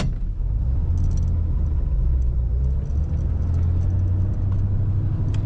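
A 1941 Cadillac Series 62 coupe drives along a road, its engine a steady low rumble heard from inside the cabin with constant road noise and no voices.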